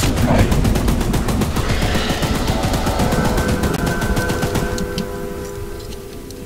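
Mounted gun in Choo-Choo Charles firing a long, rapid, evenly spaced automatic burst at Charles, loud and close, easing slightly before the shots stop and a faint tone remains.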